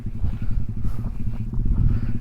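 Honda Benly 300 motorcycle engine idling nearby, a loud low throbbing pulse with a steady rapid rhythm and no talk over it.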